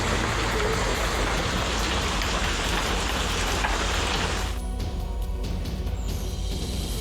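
Hail falling in Shimla during a mountain storm: a dense, continuous hiss of pellets striking surfaces, loud and steady throughout, easing slightly near the end.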